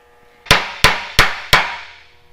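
Four heavy blows from a big hammer strike metal on an old GMC truck driveline in a steady rhythm, each a sharp ringing clang that decays before the next, close and loud.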